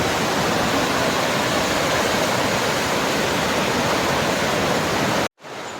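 A forest waterfall roars with a loud, steady rush of falling water, broad and continuous, cutting off abruptly near the end.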